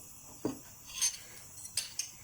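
Utensil clinks and scrapes against a pot as a meatball mixture is stirred, a few sharp metallic taps spaced irregularly over quiet background.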